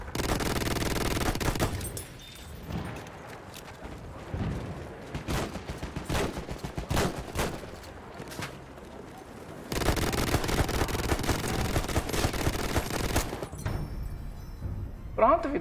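Gunfire in Battlefield 1, with bursts of rifle and machine-gun shots and heavy blasts in sharp clusters and rapid volleys, broken by short quieter gaps, while a player talks over parts of it.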